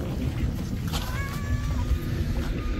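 A hungry house cat meows for food, short rising mewing calls heard close over a steady windy, rumbling background.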